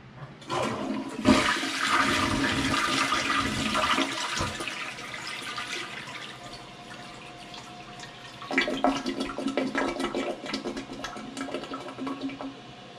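A plugged household toilet flushes weakly with rushing, gurgling water that fades, then surges again partway through as the bowl struggles to refill.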